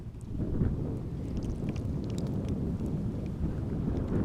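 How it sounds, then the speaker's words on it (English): A cool breeze blows steadily at Amsterdam airport, a continuous low rushing wind buffeting the microphone with no break. "it is nice and refreshing to have a bit of cool breeze over here"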